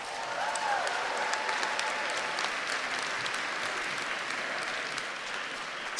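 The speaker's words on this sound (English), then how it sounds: "Let's give him another round of applause." Audience applause at the CCNY 2025 graduate convocation: a dense, continuous wash of many hands clapping in a large hall, steady and sustained from start to finish, with no voices over it.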